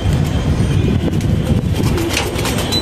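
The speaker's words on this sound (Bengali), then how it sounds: "কবুতর এই খাঁচার গুলো বের হইতেছে।" Gorra pigeons cooing as they leave their cage, a close, loud, continuous run of soft throaty coos and wing rustle with no talking.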